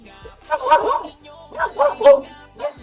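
A dog gives a few close, yelping barks and whines in two short bursts, loud and near.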